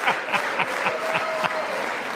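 Crowd applauding with rhythmic clapping and light cheering, steady and fairly loud across the whole short stretch.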